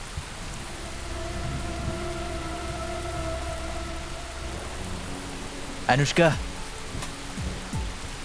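Steady rain hisses in the background while a voice calls out sharply once, over a low rumble.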